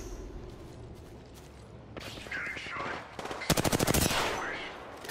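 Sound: gunfire in Apex Legends video game

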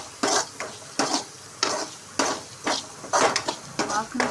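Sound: cumin powder being sautéed and stirred in a pan

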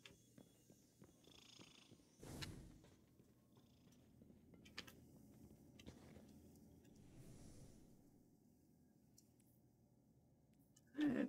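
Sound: cat purring in Destiny 2 video game

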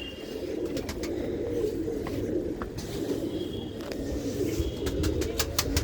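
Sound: pigeons cooing

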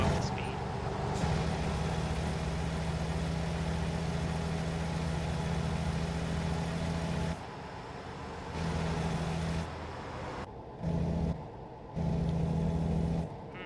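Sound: Volvo truck engine at cruising speed in American Truck Simulator video game

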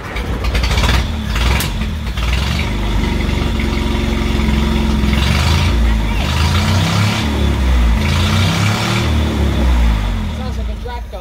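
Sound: 1968 Bedford CA ice cream van engine running

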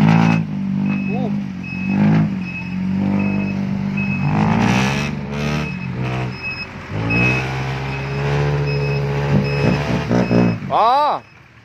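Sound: dump truck reversing with reversing beeps

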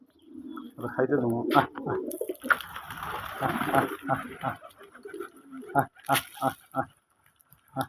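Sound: pigeons cooing on a pigeon farm

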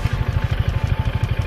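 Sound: Piaggio MP3 500 scooter engine idling and revving

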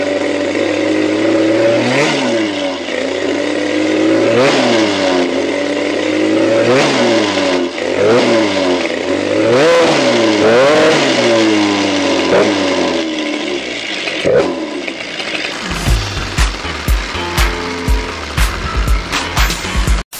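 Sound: moped engine revving

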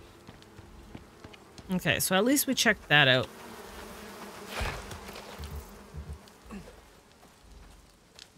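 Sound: buzzing bees near hives in Icarus, a video game

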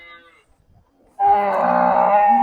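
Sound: jersey cows at a cattle market

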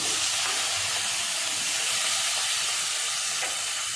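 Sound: chopped onion frying in oil

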